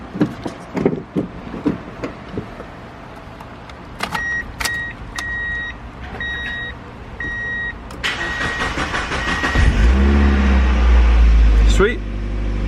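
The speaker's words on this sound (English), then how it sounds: "I think we're gonna try to give it a test start." Mazda Miata NB roadster, a broken and trashed car being test started: a door chime beeps in a repeating pattern, then the starter cranks and the engine catches into a steady idle, with people talking nearby.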